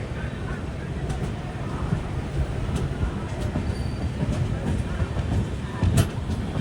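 Himsagar Express sleeper class train in motion near Tirupati, a loud continuous rumble of wheels on rails with clickety-clack and brief squeals, heard from inside the carriage, with faint voices now and then.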